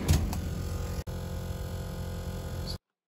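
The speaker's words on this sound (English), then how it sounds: "That sound was being caused by this blue fan right here." Whirlpool five-door refrigerator with its fan blade striking ice, a steady mechanical whir with a sharp tick near the start and a click about a second in, cutting off abruptly.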